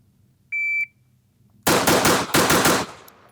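Rifle shots at an outdoor shooting range follow a short electronic beep from a shot timer: six or so sharp, loud reports in a quick, slightly uneven string, close and dry with no talk.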